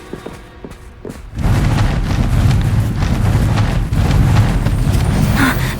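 A Confringo spell blast in Hogwarts Legacy erupts after a quieter lead-in, giving way to a loud, sustained booming roar that rumbles on for several seconds.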